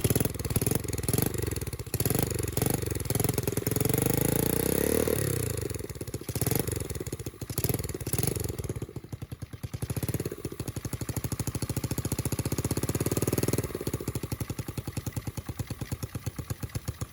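A rebuilt Honda mini engine starts and idles, its rough, sputtering mid-pitched run steady and close, the rhythm changing slightly partway through before settling into a fast, even idle.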